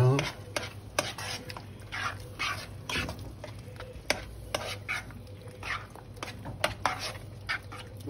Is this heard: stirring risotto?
yes